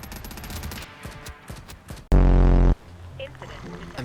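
Video game machine gun bursts in a quarantine zone checkpoint shooter, scattered sharp shots followed by a very loud sustained burst lasting under a second, with some faint voice around it.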